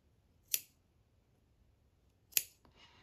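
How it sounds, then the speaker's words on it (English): Scissors snip embroidery threads on a stitched sampler: two crisp, close cuts about two seconds apart, each a sharp bright click, with near silence between them. "So go through and snip them all."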